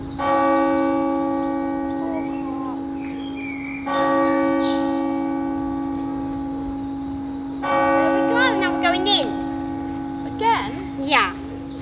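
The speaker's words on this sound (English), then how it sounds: "we're still waiting for the 4 o'clock bells" A large church bell tolls slowly several times striking the hour, each stroke ringing out and fading, while a few voices speak faintly over the lingering hum.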